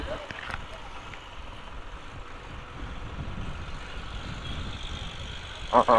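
A truck rumbles past with a low engine drone, building slightly and fading, under faint talk and wind.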